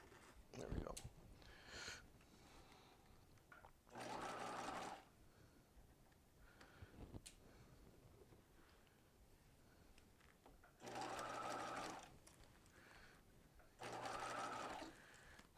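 A sewing machine stitches a sleeve into a garment in short separate bursts, three or four loud runs of steady whirring a second or two long, with quiet handling, rustling and soft talk between them.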